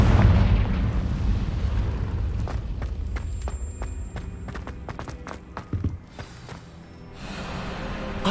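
A Confringo spell explosion in Hogwarts Legacy, opening with a heavy roaring blast that decays into a series of sharp cracks and crackling debris, then a lingering rumble.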